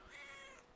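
A cat meows once in the video game Brothers, a short, fairly loud call that rises and fades within a second.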